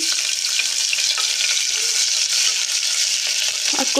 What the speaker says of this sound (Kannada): ಎಣ್ಣೆ ಬಿಸಿ ಆದಮೇಲೆ ಸ್ವಲ್ಪ ಈರುಳ್ಳಿ ಕಟ್ ಮಾಡ್ಕೊಂಡು ಸಣ್ಣಕ್ಕೆ ಹಾಕ್ಕೊಳ್ಳಿ